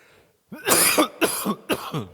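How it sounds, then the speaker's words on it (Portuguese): A person coughs several times in a row during a church sermon, loud and close, each burst harsh and separated by brief gaps. "Perdão pela tosse."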